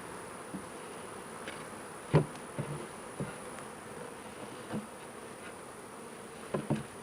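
Honey bees buzz around the outside of a hive and on nearby greenery, a steady faint drone with several individual bees flying close past in brief louder swells.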